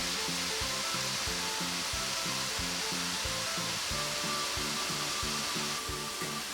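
Chicken pieces for an asparagus dish fry in a pan with a steady, dense sizzle, running continuously beneath a loud, rhythmic musical beat.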